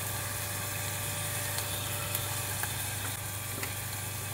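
Small shrimp fry in a pan with reddish-browned onions and turmeric, making a steady, dense sizzle that runs evenly throughout with faint stirring clicks and no voices.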